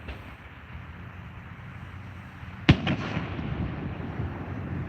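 Canada Day fireworks at a harbor, one sharp loud boom partway through followed by a couple of quick crackling echoes, over a steady low rumble of distant crowd and ambient noise.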